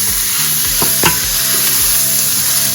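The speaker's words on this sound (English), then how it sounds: "You throw that in the pan, give it a little toss." Brisket burnt ends are tossed in a hot pan and give a loud, continuous sizzle. A few sharp scraping and stirring knocks stand out as the meat is flipped, and no one speaks.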